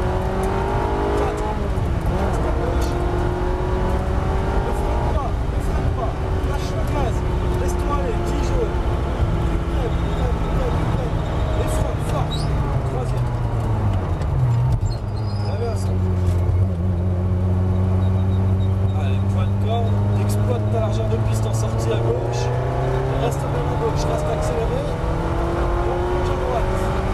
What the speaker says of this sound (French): Et on accélère. Allez, gaz à fond.